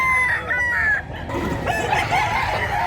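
A young rooster (stag) at a poultry sale in Mantalungon, Cebu crows loudly and close by, one drawn-out crow with a brief dip before it carries on.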